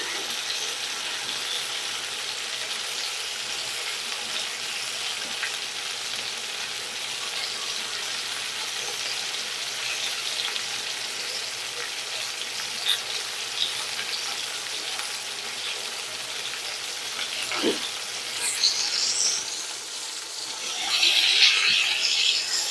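Chicken cutlets frying in a pan for restaurant-style chicken Marsala, giving a steady, bright, crackling sizzle with scattered pops that grows a little louder near the end.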